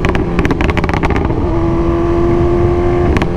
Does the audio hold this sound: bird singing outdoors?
no